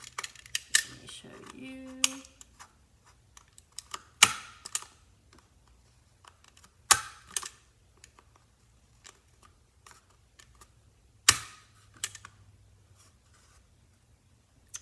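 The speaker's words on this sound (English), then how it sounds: "Now I am going to staple it shut, so it looks more like a dagger." A stapler snaps shut several times while a paper pirate dagger has its edges fastened, giving sharp, separate clicks spaced a few seconds apart over a quiet room, with a brief spoken remark near the start.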